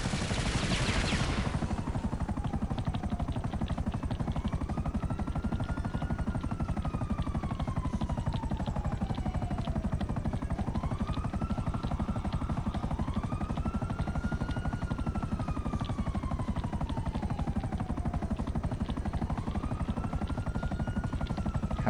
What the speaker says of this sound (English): Okay, now we've got a chopper in the air.